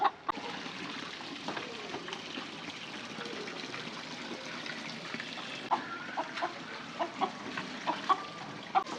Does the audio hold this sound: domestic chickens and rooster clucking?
yes